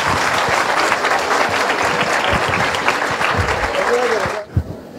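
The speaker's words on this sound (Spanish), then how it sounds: "Lo recibimos con un muy fuerte aplauso." Audience applause at an academic talk, dense and steady clapping from a crowd that cuts off abruptly near the end, followed by a brief voice.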